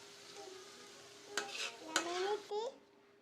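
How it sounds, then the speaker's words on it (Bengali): Frying in a pan with turmeric powder and salt while cooking a Bengali curry, a soft sizzle under a few scraping stirs and light clinks of a utensil against the pan, fairly quiet and close. "একটু হলুদ গুঁড়া আর লবণ দিয়ে আমি ভেজে নিব"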